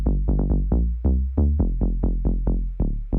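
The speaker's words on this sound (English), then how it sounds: "So together, that bass line and sub sound like this." A synth bass line layered with a deep sub bass plays a punchy, rhythmic tech house pattern of short plucked notes, loud and alone.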